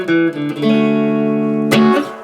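A guitar riff plays a double hammer-on followed by picked notes, a short phrase of clear sustained tones with a fresh attack partway through, heard alone without speech.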